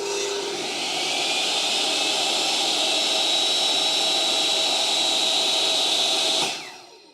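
A Metabo TS254 table saw starts up slowly, its motor whine rising to a loud, steady high-pitched drone before shutting off and spinning down near the end, with no talking.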